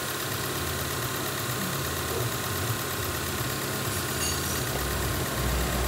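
A car engine idles steadily after an alternator repair, the car having had stumbling and stalling trouble; a continuous low, even running drone with no talk over it.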